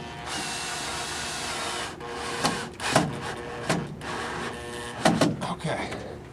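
Phillips head screw driven tight into a light fixture box, a few scattered scraping creaks and clicks over steady background hiss, with a person talking at moments.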